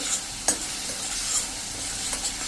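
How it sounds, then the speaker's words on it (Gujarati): Onions and tomatoes sauté in oil in a pan for a potato and gram-flour curry, a continuous hissing sizzle broken by a few scraping stir strokes, with no voices. "આ રીતે તેલમાં સાંતળી લેશું."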